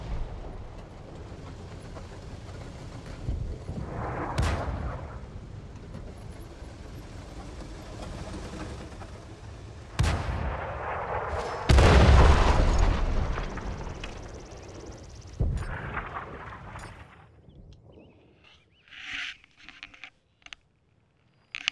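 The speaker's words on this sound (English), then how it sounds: "Scumbag artillery." Artillery shells in World of Tanks on console crash down as several heavy explosive booms at irregular intervals, one especially loud blast near the middle, over a continuous low engine rumble before the scene drops nearly quiet.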